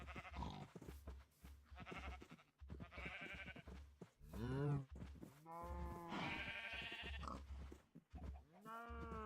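Livestock calls in the GregTech: New Horizons game, with bleating, moo-like cries repeating over a steady low drone and game sounds, with talk over parts.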